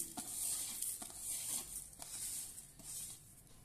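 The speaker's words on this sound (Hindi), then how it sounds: "पहले हम धनिया, सौंफ और अजवाइन को डाल देते हैं साथ में।" Coriander seeds, fennel and ajwain dry-roasting in a kadhai for garlic-leaf pickle, with steady stirring scrapes and light crackle, a few sharper clinks of the spoon against the pan.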